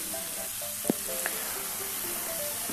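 Chopped spinach hits a hot pan already seasoned with asafoetida, giving a steady close-up sizzle of frying with a couple of sharp clicks and stirring taps against the pan.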